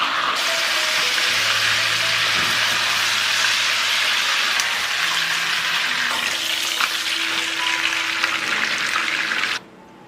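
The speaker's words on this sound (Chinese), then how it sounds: "汤汁收干了，我们就调小火来煎" Pork pan-frying over low heat with rosemary after the braising liquid has cooked off, a steady, even sizzle that cuts off abruptly near the end.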